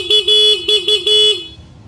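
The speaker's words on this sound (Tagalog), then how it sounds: "ito yung stock horn." A stock car horn honks in a quick series of short and longer blasts, loud and close, then stops abruptly.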